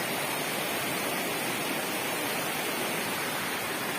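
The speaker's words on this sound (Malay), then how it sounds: "Air pun dah semakin deras ni." Swift river water rushing at Lata Berala on Sungai Temong, a steady, dense broadband roar with no pauses, close and fairly loud, with no voices.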